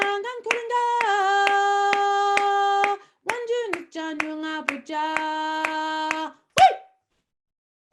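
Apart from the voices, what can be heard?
audience clapping along to a song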